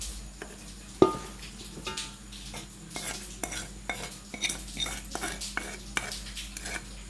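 Raw mango pieces being mixed with chili powder using a spoon in a metal bowl, a series of irregular scraping and clinking strokes with a sharp knock early on, close and without talk.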